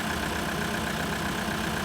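A TYM T654 tractor, a roughly 65-horsepower four-wheel-drive model with a bucket, idles loudly and close by, its diesel engine giving a steady low rumbling drone with a faint knock throughout and no talking.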